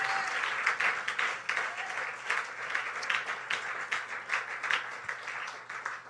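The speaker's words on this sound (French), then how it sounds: "On peut l'acclamer." A church congregation applauds steadily for a well-regarded brother, dense clapping that continues loud and sustained without a break from start to finish.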